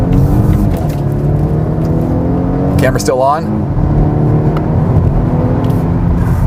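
A 2019 Volvo S60 in dynamic drive mode accelerating, heard from inside the cabin as a steady engine drone and road roar that briefly rises and sweeps in pitch, with someone talking over it.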